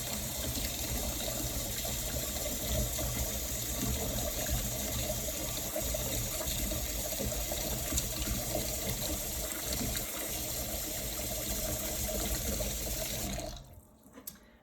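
A tap runs blazing hot water steadily into a sink to rinse washed wool, a continuous close gushing flow that stops abruptly near the end.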